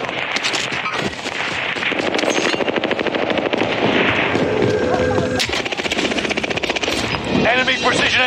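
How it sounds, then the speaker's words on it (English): Precision airstrike explosions in a first-person shooter video game: dense, loud, rapid blasts and bursts of gunfire pound almost nonstop, with a voice speaking over the din. "Enemy precision airstrikes."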